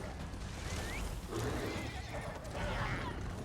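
A horse whinnies and neighs in the Elder Scrolls Online video game, a clear call over constant game noise and hoof clatter, with a voice talking faintly underneath.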